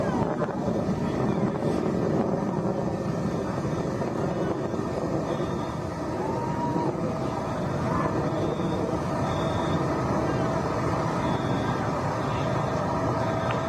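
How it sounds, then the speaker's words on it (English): A Blue Origin rocket engine roars at full throttle during launch, a steady loud broadband rumble with wind buffeting, continuous throughout. "Engine back up to full throttle."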